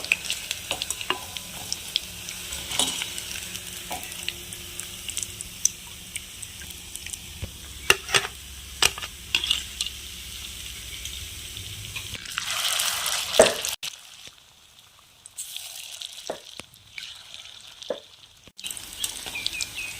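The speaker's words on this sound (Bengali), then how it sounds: "মিশ্রণে ডিমটা চুবিয়ে ভেজে নেব।" Boiled egg pakoras dipped in batter crackle and sizzle steadily in hot oil in a kadai, with occasional stirring knocks and a brief quieter stretch near the end, no voices.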